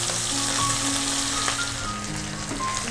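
Leftover-rice dhokla pieces fry in a pan with a dense, continuous sizzle that stays even and close throughout, with light stirring under it.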